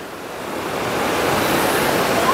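A jungle waterfall and a flooded river roar loudly, a dense broadband rush swelling slightly and holding steady, close and alone with no speech.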